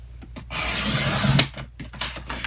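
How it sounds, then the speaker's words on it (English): A paper trimmer slices through a sheet of cardstock, a smooth sliding scrape of the blade that builds to a sharp snap at the end, followed by a few light clicks and paper handling nearby. "I'm going to bring my trimmer and we're going to cut this at 4 1/4."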